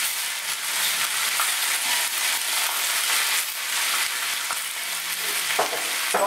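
Steady, loud sizzling of pork strips with green pepper and garlic stir-frying in a wok, with occasional scraping and clatter of stirring throughout; no voices.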